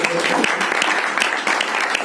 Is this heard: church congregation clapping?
yes